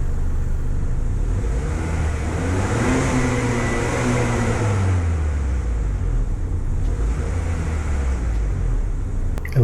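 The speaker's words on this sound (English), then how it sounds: "Now let's hear some revs in normal mode." A 2021 Acura TLX engine revs in normal mode, rising and falling through a couple of swells, heard from close by with a steady broadband roar and no talk.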